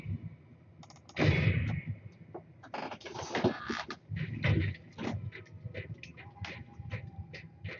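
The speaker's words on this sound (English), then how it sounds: "they're shooting me again" Gunfire from a multiplayer battle in the video game Call of Warhammer, with several loud bursts of shots over a busy, cluttered background of game noise and talking.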